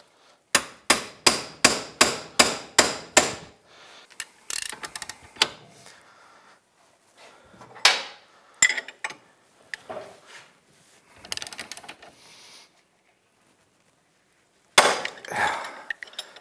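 Hammer strikes on a bearing puller while removing a front wheel bearing from a 2012 Honda TRX420 Rancher knuckle: a rapid series of about eight sharp metallic blows, then scattered knocks, scraping and a final crack as the part breaks loose.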